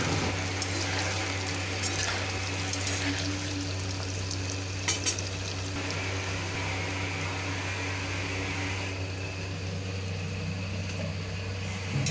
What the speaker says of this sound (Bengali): বাকি পনিরগুলোও আমি ভেজে নেবো